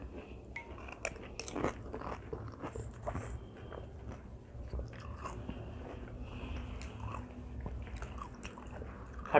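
Panipuri (golgappa) is bitten and chewed during a 100-piece eating challenge, close crunchy bites followed by steady, fairly quiet chewing, with no talk.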